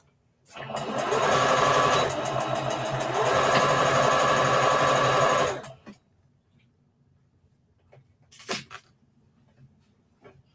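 A sewing machine stitches fabric for an Easter bunny treat bag in one steady loud run of about five seconds, with a brief pause in the middle, then stops; faint handling clicks follow in near silence.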